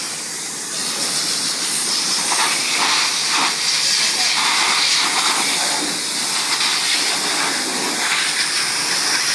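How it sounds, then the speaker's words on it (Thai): Steady, loud hiss of a pressure washer spraying water over a motorcycle at a Rama 3 wash, continuous and close throughout without pause. "ฉีดน้ำ ไล่ฝุ่นไล่ดินออก"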